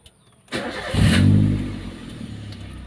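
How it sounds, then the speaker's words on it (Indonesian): A used car's engine cranks briefly and catches, settling into a steady idle after a short rev; close and loud, with no talking. "Baru kita starter."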